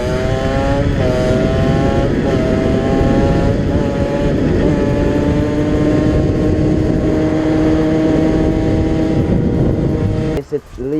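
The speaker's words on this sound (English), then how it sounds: "Test drive, see how fast this thing goes now when it's semi-illegal." A stunt moped on a test drive at top speed holds a steady, loud buzzing engine drone with rising pitch as it accelerates through the gears, close up, with a brief dip near the end.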